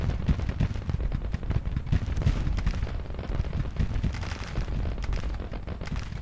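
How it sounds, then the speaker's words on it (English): Artillery fire in the video game Grand Tactician: The Civil War, a dense, unbroken barrage of heavy booms and cracks layered over one another for the whole stretch, with no talk. "Oh, we drove back Cutler with the artillery."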